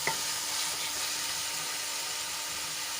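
Onions and tomatoes sautéing in oil give a continuous close sizzle with a faint stirring texture, steady throughout with no speech.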